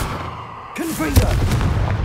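A Confringo blasting spell cast in Hogwarts Legacy bursts out as a sharp whooshing blast with a short fizzing trail, landing right after a voice calls out the spell's name.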